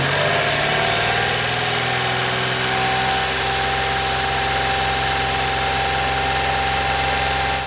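Mitsubishi Mirage engine revved up and held steady around 2,500 RPM during a fuel pressure test, a loud continuous drone whose pitch climbs in the first seconds then sustains evenly, close and alone with no talk.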